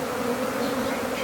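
A swarm of honey bees buzzes densely and close, a continuous loud droning hum with no pauses, being relocated from a tree branch into a box.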